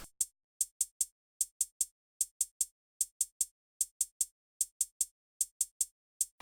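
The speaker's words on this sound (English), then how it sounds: "I played this very simple but kind of different close hat pattern" Crisp trap closed hi-hats tick in a quick, syncopated repeating pattern, with some rapid doubled hits, bright and dry on their own.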